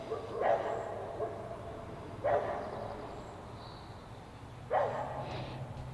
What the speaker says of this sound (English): Find out what the dog's barking at